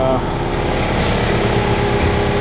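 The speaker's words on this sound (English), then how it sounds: "Excuse me for the air compressor running in the background" An air compressor runs during windshield work on a 2023 Volkswagen Tiguan being undercoated, giving a loud, steady mechanical drone with a brief hiss of air near the middle.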